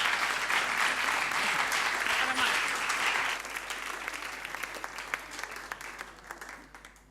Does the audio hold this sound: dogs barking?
no